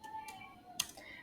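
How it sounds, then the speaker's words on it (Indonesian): A few light, faint keystrokes on a computer keyboard while a command is entered at a command prompt, spaced irregularly over a quiet background. "Kita ketikkan"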